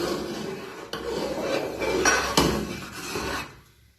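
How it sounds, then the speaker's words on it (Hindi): A spoon scrapes and stirs milk boiling for kheer in a pot over a medium flame, a steady rasping, grating rhythm with a few sharper knocks before it fades out. "और साथ साथ आपने इसको अच्छे से चम्मच चलाते रहना।"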